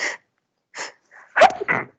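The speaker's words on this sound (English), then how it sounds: "I'm going to sneeze." A person sneezes indoors, with a couple of short sharp breaths leading up to the sneeze itself and a quick exhale trailing after it, close to the microphone. No talk.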